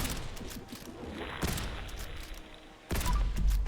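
Loud, booming shots from an explosive AMR 3000 anti-material rifle in Fallout 4, with a few heavy reports spaced a second or so apart over a dense, noisy background.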